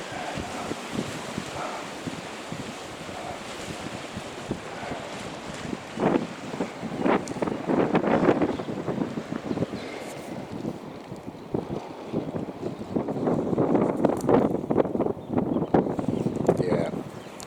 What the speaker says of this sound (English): it's a cold wind out here